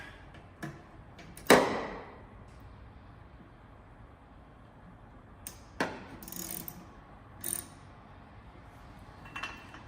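A ratchet snugging down intake manifold hold-downs on a drag racing build: a few sharp metallic clicks and clanks spaced out over several seconds, one loud near strike early on, with background room noise and no speech.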